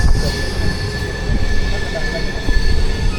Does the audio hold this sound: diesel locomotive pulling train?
yes